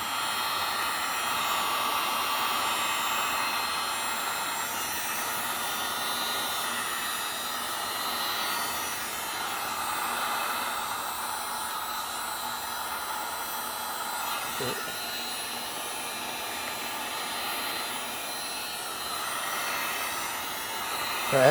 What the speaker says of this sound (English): then turn on your heat gun and look.